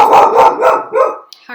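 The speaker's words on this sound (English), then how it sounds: "There's no need to bark." A dog barks loudly and close, giving three or four quick barks in a row before a short pause, and then a brief vocal sound follows.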